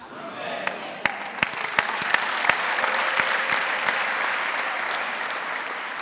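Applause breaks out at a gospel church service, a burst of crowd clapping that starts with loud individual claps and settles into a dense, sustained roar. Close and loud, with no talk over it.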